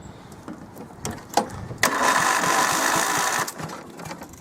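An old tractor engine coughs with a few sputters, then catches and runs with a rough, rattling chug for a second or two before dropping back, heard fairly close outdoors.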